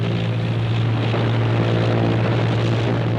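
A P-51 Mustang fighter with a Rolls-Royce Merlin 61 engine drones steadily and loudly throughout, a deep continuous propeller and engine roar with no voices.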